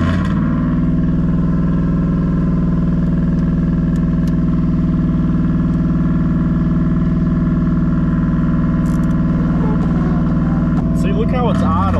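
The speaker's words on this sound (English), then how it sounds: "See, look how it's idling, man. Idling at 2 grand." A car engine idles high at about 2000 rpm, a loud, steady drone held close and unbroken, with a brief rattle near the end.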